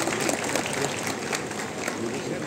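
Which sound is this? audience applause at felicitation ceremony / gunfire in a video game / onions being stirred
audience applause at felicitation ceremony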